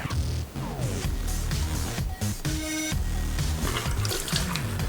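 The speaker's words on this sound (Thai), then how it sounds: "วันนี้เราจะมาล้างอ่างล้างหน้ากัน" Water from a tap runs steadily into a bathroom washbasin during cleaning, splashing and gurgling close by with shifting flow and clattering handling, and no one speaks.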